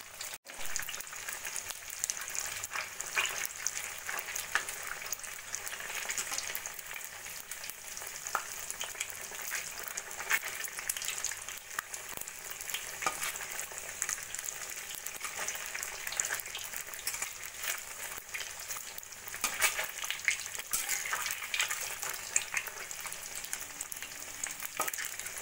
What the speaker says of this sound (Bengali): এবার একটা করে মোমো তুলে নিয়ে ভেজে নেব। সেম ভাবে সব মোমোগুলোই আমি ভেজে নেব।